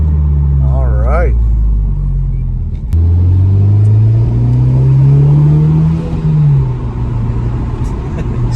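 A 2019 Honda Civic Type R fitted with a PRL intake revs, its engine droning and rising with turbo spool, loud and close inside the car while people talk over it.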